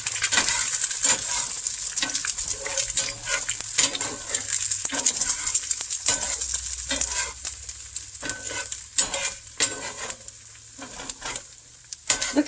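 Eggs seasoned with pepper and salt are stirred in a pan on medium heat for scrambled eggs, giving a steady sizzle with repeated scraping and clinking strokes close by.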